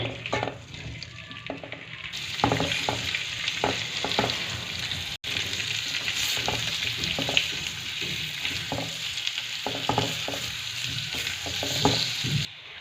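Potatoes fry in oil on low heat, a continuous crackling sizzle broken by scraping stirs and occasional clatters, with no talking.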